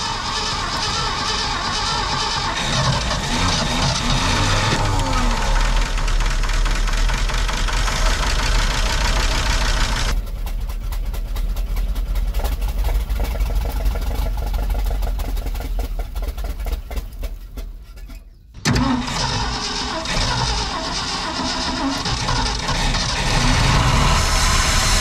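A 1971 Ford F600 stick-shift U-Haul truck engine turns over and catches, then settles into a loud, rough idle, with a brief dip before the rumble resumes close by.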